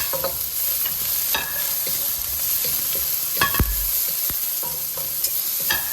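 Chopped onions and garlic sauté in oil over high heat, a loud, close sizzle with frequent stirring clicks and scrapes throughout.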